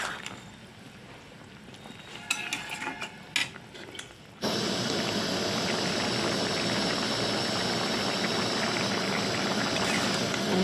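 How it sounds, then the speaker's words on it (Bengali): Curry gravy boiling in a pot: a few quiet clinks, then a loud, steady bubbling hiss that starts abruptly and continues close up. "দেখি বেশ ভালোই ঝোল ফুটছে"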